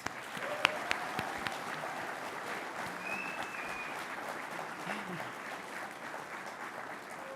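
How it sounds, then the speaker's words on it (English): An audience applauds steadily in a large hall during a city State of the City address, a dense, even wash of many hands clapping that holds for several seconds at moderate distance. "Let's give you all a round of applause."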